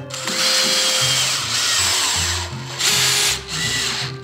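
Power drill driving a screw into woodwork, close and loud, with several bursts where the motor pitch shifts up and down and brief pauses between pulls of the trigger.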